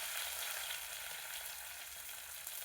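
Crushed ginger, shallots, green chili and curry leaves sautéing in hot oil for a Kerala fish curry, giving a dense, even, hissing sizzle that stays steady throughout, with no other sounds.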